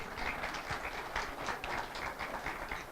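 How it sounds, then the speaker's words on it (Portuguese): Faint audience clapping in a lecture hall, an even patter of many hands heard from a distance, quiet and continuous with no voices on top. "Uma salva de palmas para esses pessoal."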